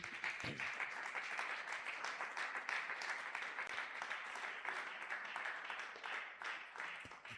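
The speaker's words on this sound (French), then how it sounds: "Acclame très fort la parole de Dieu." A church congregation at a Sunday worship service applauds together, a dense, steady wash of many hands clapping at moderate distance, sustained throughout with no break.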